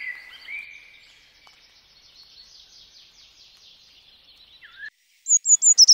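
Common blackbird and other birds at a garden feeder in Côtes d'Armor, Brittany: thin high chirps and a trilling song carry on fairly close, easing quieter midway, then several sharp, loud bright calls burst out near the end.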